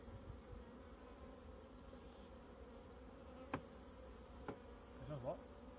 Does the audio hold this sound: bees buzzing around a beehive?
yes